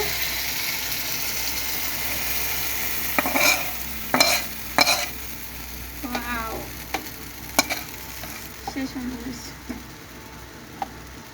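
Dried fish stir-fries (bhuna) in oil in a pan, giving a steady close sizzle with repeated scraping and clacking strokes of a spatula throughout, no talk over it.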